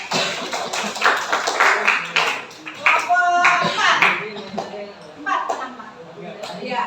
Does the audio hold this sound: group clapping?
yes